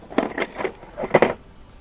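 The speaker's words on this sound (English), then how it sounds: "You want to have a crescent wrench," A metal adjustable crescent wrench from an appliance repair tool kit is handled, giving a handful of light metallic clinks and clatters spread over a couple of seconds, close by and with no talk.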